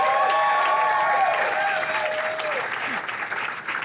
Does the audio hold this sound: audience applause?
yes